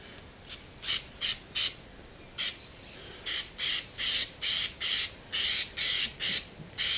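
Spray paint hissing onto a car part as a heavier second coat goes on, a series of about fourteen short even bursts, close and fairly loud, with steady pauses between them.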